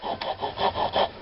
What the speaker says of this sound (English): I might just do it with the